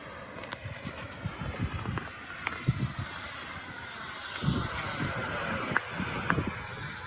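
An RC model airplane flies outdoors near snowy mountains, its engine a thin, steady distant whine with faint rising and falling pitch, accompanied by scattered handling and wind noises nearby.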